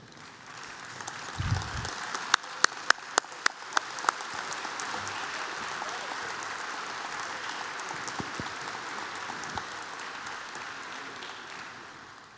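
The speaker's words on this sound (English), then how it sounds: "I'd like to ask those Eagles to stand and give them applause." Audience applause for Eagle Scouts standing at a Scout recognition reception, a sustained room-filling clap lasting over ten seconds, with a few sharp louder claps early on and the applause gradually tapering at the end.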